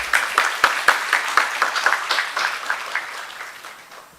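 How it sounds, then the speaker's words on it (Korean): An audience at a university admissions information session for high school seniors and parents claps at a welcoming round, a dense patter of applause that gradually fades over a few seconds. "큰 박수 부탁드리겠습니다."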